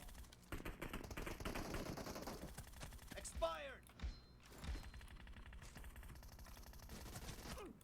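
Gunfire in the PUBG Mobile arena match, rapid bursts of shots and mechanical clatter running through most of the clip beneath game effects and a speaking voice.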